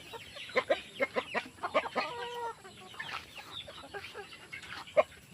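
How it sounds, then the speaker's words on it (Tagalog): Free-range native chickens cluck in short, repeated bursts on a small farm, close by, with no one talking. "Sa aming mga free range na chicken. Na mga native chicken mga boss."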